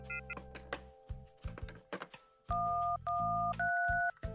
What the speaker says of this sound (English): He dials random numbers and tries to make a call, but nothing happens.